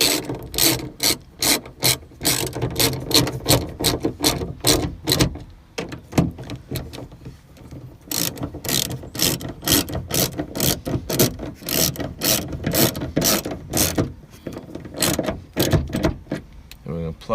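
Ratchet wrench tightening the bolts of a 1997 Jeep Grand Cherokee rear wiper motor inside the lift gate, with a loud, close, continuous series of rapid clicking strokes broken by a short pause.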